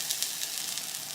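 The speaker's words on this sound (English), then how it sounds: "listen to that sizzle" A preheated hot comb hisses and sizzles against waxed hair in a steady, close crackling wash with faint rhythmic pulses, and no voices are heard.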